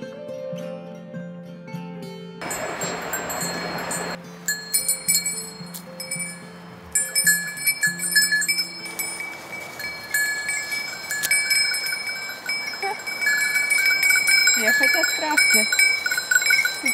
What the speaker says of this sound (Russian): Бедные козочки, овцы.